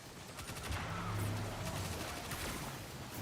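Gunfire in Destiny aimed at a clone, a quick volley of rapid shots in bursts over a couple of seconds, moderately close and alone without talk.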